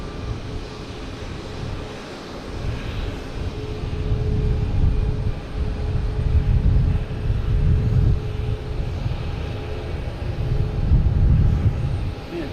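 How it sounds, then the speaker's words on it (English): A JetBlue A321 arriving from Cancun at Boston Logan gives a low, rolling engine rumble that builds gradually and surges in waves, moderately loud and steady, with no one speaking. "We got JetBlue A321 coming in from Cancun."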